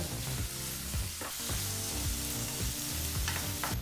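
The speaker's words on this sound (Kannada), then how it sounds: "ಈಗ ಈರುಳ್ಳಿನ ಎರಡರಿಂದ ಮೂರು ನಿಮಿಷಗಳ ಕಾಲ ಮೀಡಿಯಂ ಫ್ಲೇಮ್ನಲ್ಲೇ ಚೆನ್ನಾಗಿ ಫ್ರೈ ಮಾಡ್ಕೋಬೇಕಾಗತ್ತೆ" Chopped onions fry over a medium flame for a fenugreek and moong dal curry, making a dense, continuous sizzle close up with low rumbling clatter from the pan underneath.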